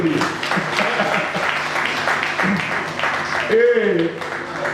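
Applause from the audience at a Congolese retirees' collective New Year wishes ceremony, steady clapping filling the room for several seconds with voices mixed in and a brief vocal cry near the end.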